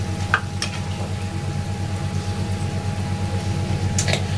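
Jalebi batter frying in hot oil gives a steady, close sizzling hiss with small crackles throughout, alone and without any voices.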